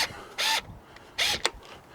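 A screwdriver drives screws to fix a plastic shed panel to its metal moulding and side, giving two short grinding whirs with a small click after the second, close and clear with no talk.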